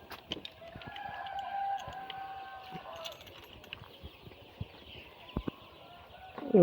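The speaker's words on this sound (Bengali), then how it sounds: "আজকে আমরা দেখব যে মুরগি এখন কি অবস্থায় আছে" Sonali hybrid chickens in a poultry shed, recently beak-trimmed, giving scattered clucks and drawn-out calls with a crow-like cry among them, plus occasional sharp knocks in a quiet space.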